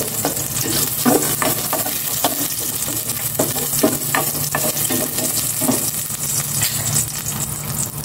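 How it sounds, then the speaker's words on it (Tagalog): Garlic sautéing in cooking oil sends up a steady, close sizzle, with repeated clicks and scrapes of a utensil stirring the pan throughout. "Gisa ko na itong bawang."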